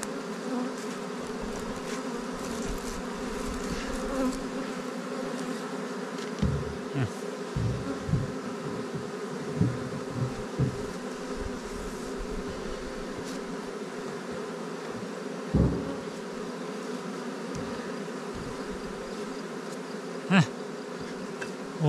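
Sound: many bees buzzing

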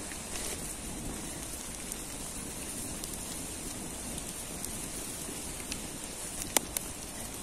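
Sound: raindrops hissing on hot burning firewood

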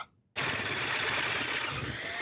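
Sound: drilling holes to 5.5 mm

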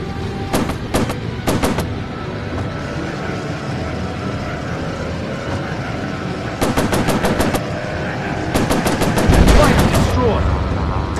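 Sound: aircraft machine gun fire in video game Warplanes VR

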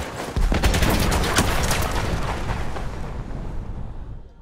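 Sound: gunfire in the video game Battlefield 1

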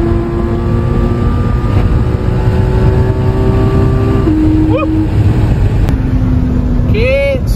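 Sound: Porsche sports car engine accelerating during street race

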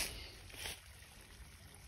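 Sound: water running in a small creek

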